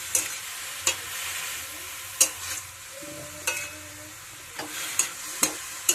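Tela kochi greens fry in a pan with a steady sizzle, broken by sharp, regular scrapes and knocks of a spatula being stirred through them. No voices are heard.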